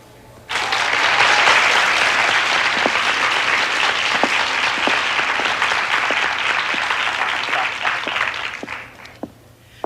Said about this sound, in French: Je vous demanderai de l'encourager chaudement par vos applaudissements.